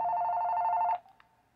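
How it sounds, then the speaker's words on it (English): A mobile phone rings inside a thrift store: a loud, steady electronic ringing tone for about one second that then cuts off, leaving quiet room sound and a faint click. "I'm sorry, my phone's ringing."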